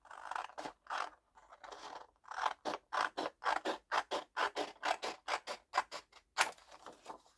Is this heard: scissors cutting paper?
yes